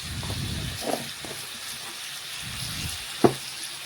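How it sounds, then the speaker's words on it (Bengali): Sugar melting and being stirred in a pan over low heat, heard as a soft steady sizzle with faint scraping strokes and one brief sharp clink near the end, close by and alone. "বেশ কিছুক্ষণ সময় নিয়ে চিনিটা গলিয়ে নেব।"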